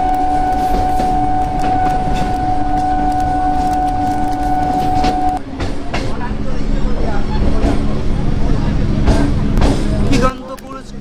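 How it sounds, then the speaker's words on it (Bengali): A local train pulls into Lakshmikantapur station during the Ganga Sagar Mela crowd, a loud continuous rumble with a sustained tonal hum that cuts off midway, clattering and crowd noise beneath, then drops near the end. "আর লক্ষ্মীকান্তপুরে এখন ট্রেন ঢুকছে"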